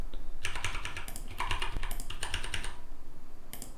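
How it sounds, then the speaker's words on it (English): Fast typing on a computer keyboard, close and crisp, with bursts of rapid key clicks separated by short pauses and no speech. "now I can type something"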